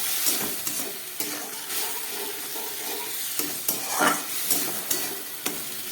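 Spiced masala for a fish curry is stirred and fried in a pan until the water dries off, a steady sizzle overlaid with intermittent scraping clicks of the spoon, close up and without speech.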